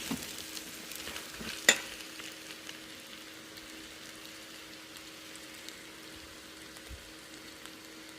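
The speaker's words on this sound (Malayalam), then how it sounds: "രണ്ട് ഉള്ളിയായത് അതിൻ്റെ കൂടെ ഇട്ട് നല്ലോണം വഴറ്റുക" Onions sautéing in a pan for a roasted-coconut chicken curry make a faint, steady sizzle with one sharp utensil clink early on, quiet and close with no voices.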